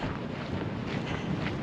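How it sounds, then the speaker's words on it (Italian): Steady, roaring wind in a dense forest on a Torres del Paine trek buffets the microphone throughout, a continuous broadband rush with no voices. "Il vento torna a farla da padrone."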